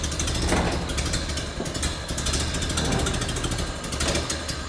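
A 1930 Ford Model A engine idles low and smooth, a steady close-up rumble with a faint mechanical ticking layered over it, heard alone throughout.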